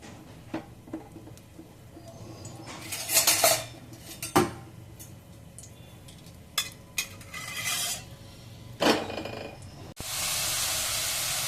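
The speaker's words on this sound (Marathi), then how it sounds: "मस्त याला असा परतत राहायचं आहे" A spoon stirs amla murabba with ghee, cinnamon and cardamom in a pan over low flame, producing scattered scrapes and metallic clinks against a quiet background that give way to a steady hiss near the end.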